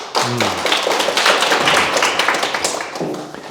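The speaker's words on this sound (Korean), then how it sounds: "박수 한번 치세요." An audience at a Korean Buddhist Sunday dharma talk bursts into applause, a dense wash of many hands clapping at once, holding steady before tapering off near the end.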